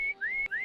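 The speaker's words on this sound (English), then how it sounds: "if you click on it, Steve whistles" A character whistles in the video game Harvester after a pin-up poster on the wall is clicked: a near, clear two-part wolf-whistle, a rising slide then a held note, repeated twice in quick succession with no talk.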